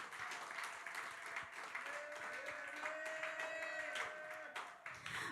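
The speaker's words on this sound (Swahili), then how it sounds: "Alafu mshangilie Bwana kwa makofi." A church congregation claps in praise during a Sunday service, steady dense applause filling the room, with a voice and a sustained tone running underneath.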